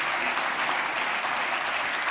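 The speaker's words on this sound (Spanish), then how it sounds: "Gracias, muchas gracias por los aplausos." Dense, steady applause from a gala audience at Radio Lleida's 90th-anniversary celebration, a continuous wash of many clapping hands with no pauses or talk.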